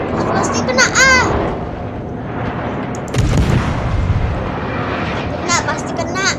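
Warship guns in the World of Warships video game fire in several booming salvos with rumbling after each, mixed with higher mechanical whines in the game's soundscape.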